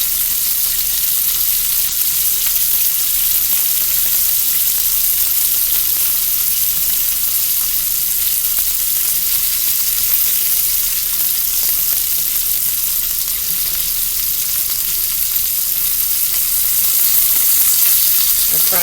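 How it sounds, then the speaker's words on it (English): Brussels sprouts packed into an oiled pan sizzle loudly and continuously, a dense, even hiss of browning that stays constant throughout with no talk. "I'm going to let just the heat of the oil and the pan cook the bottom."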